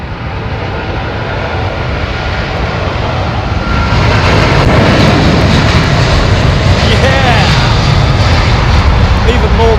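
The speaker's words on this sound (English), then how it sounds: "Even more Rolls-Royce power. This time, the Trent 800." A widebody airliner powered by Rolls-Royce Trent 800 jet engines roars past at Heathrow, a loud, deep, continuous rumble and whine that swells partway through and dominates the scene.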